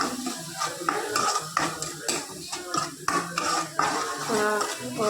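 Ivy gourd masala curry is stirred and fried in a pan, with busy clattering of a metal spoon against the pan over a low sizzle, close and fairly loud throughout, no talking.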